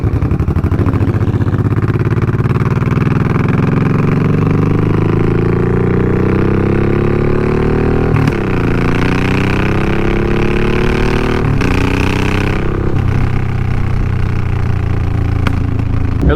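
A Yamaha motorcycle engine runs steadily at a low idle with a deep throbbing drone, close and loud, with a couple of brief shifts in pitch and no talking.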